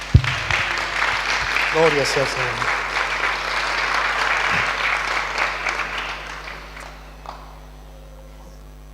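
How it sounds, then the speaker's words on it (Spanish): A church congregation breaks into loud, sustained applause that fades out near the end, with a voice calling out briefly over the clapping. "Vamos a darle un fuerte aplauso al Señor por eso."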